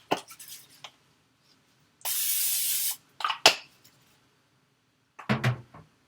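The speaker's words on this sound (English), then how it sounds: "spray it with non-stick cooking spray" Non-stick cooking spray hisses from a can into a skillet in one loud burst of about a second, with scattered clicks and handling knocks before and after.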